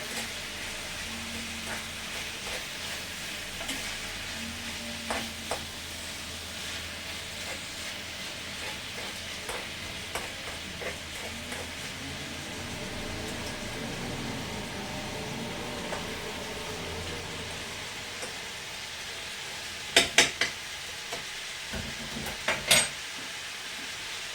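Deer meat browns in a pan for spaghetti bolognese with a low, steady sizzling hiss. Occasional scrapes and clinks come from stirring, with a few sharper knocks near the end.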